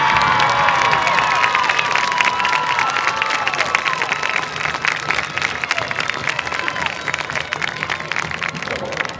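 A stadium crowd at a Clear Fork High School homecoming football game cheers and applauds the newly crowned homecoming queen, with loud whistles and shouts atop steady clapping that gradually eases.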